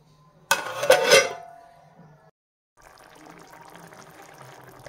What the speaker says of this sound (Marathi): तर आता आपण ह्याला कमी गॅसवरती झाकण घालून ठेवूयात